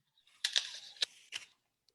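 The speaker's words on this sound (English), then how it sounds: "So I think on 3, let's take a bite." Bites into crisp fall apples, several sharp crunchy snaps in quick succession, close and fairly quiet, with no talking.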